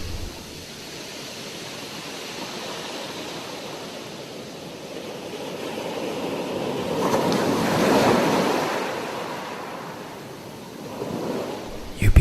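Ocean waves washing onto a beach, a steady broad roar of surf that swells to a louder crest partway through, then eases and rises again, with some wind noise.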